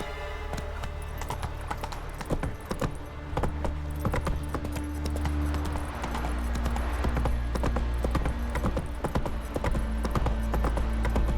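Roach, the horse from the video game The Witcher, trots with steady clip-clop hoofbeats over a low rumbling game soundscape, with the rhythmic hooves continuous and fairly close throughout.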